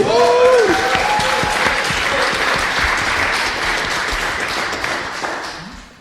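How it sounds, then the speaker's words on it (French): A live audience at a French comedy show breaks into loud, dense applause that starts at full strength, holds for several seconds, then gradually fades, with a brief voice over the opening moments. "on applaudit Violaine"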